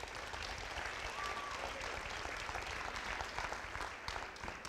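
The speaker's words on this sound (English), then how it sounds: "we need to give them a round of applause" Sustained audience applause fills a school auditorium after a middle school district band and chorus concert, steady dense clapping throughout with a faint voice briefly audible underneath.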